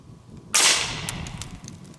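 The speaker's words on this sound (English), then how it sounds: "We'll take one shot, see where we're hitting." A single MP5 submachine gun shot fired outdoors at a bowling ball target: one sharp, loud crack with a short bright decay and faint echoing taps afterward, no talking.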